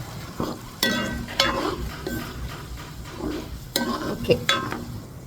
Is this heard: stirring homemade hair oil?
yes